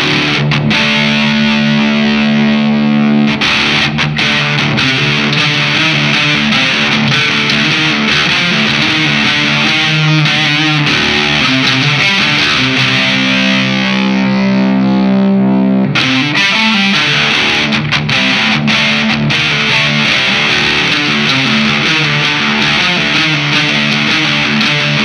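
Loud electric guitar played through an LSL Vital DS distortion pedal, sustained overdriven chords and riffs ringing continuously with brief gaps between phrases.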